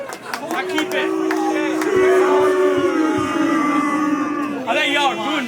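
At a rap battle, a crowd boos and jeers a rapper, a loud, sustained rumble of voices under the rapper's own rhythmic, shouted delivery.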